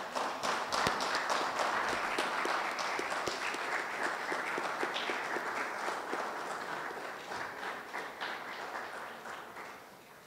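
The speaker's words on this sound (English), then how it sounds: "I want to ask you to stand and give him a round of applause" An audience at a foundation launch event rises in a standing ovation for a featured speaker, sustained dense clapping from a large crowd that gradually softens over ten seconds, with no talking.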